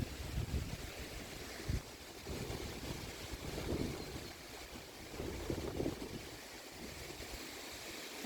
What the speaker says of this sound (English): I hope I can finish this video before the storm comes in. It is very windy